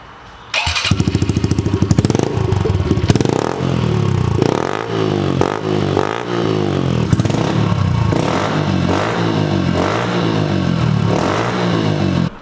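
2020 Honda CRF110 dirt bike fitted with a Piranha Pro Circuit T4 replica exhaust, no spark arrestor and no baffle, starts up close and loud, then barks through a series of sharp throttle blips and revs.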